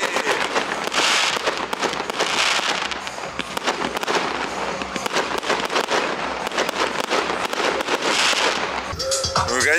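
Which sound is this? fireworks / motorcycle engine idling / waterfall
fireworks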